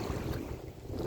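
Waves wash near a boat under gusty wind, a steady, fairly faint rushing noise with no voices.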